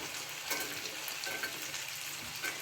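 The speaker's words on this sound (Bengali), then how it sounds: "এবার আমি মটরশুঁটিগুলো দিয়ে দিচ্ছি যাতে একটু ভেজে নেবো" Green peas frying in oil in a wok, a dense, continuous sizzle with occasional stirring, fairly close and steady throughout, no talking.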